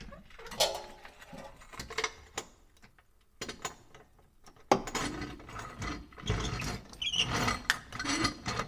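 A 7/8 inch (22 mm) wrench working a bolt during front end repair on a Mercedes 240D, giving sharp ratcheting clicks and metallic clanks in irregular bursts, with a short quiet gap partway through.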